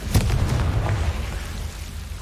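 A Confringo fire spell explosion in Hogwarts Legacy bursts as a short, loud booming blast with crackling, then a quickly decaying rumble.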